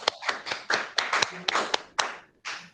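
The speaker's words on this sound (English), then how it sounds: "So let's applause" A small audience at an investment webinar claps to welcome the speakers, a loose run of distinct, separate handclaps at close range, uneven in rhythm, with gaps between the bursts.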